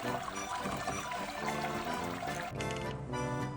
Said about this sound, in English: I'm going to sparge 4 more liters of water over top of it